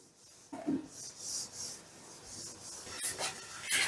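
A hand rubs salt, turmeric and mustard oil into a rohu fish tail, giving soft, close, wet rasping and squelching strokes that continue steadily with a few louder smears.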